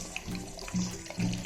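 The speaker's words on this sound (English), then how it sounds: "Turn on the tap." Water running from a tap at home during a kids' egg experiment, a gurgling trickle with two brief louder surges of flow, close by and with no talking.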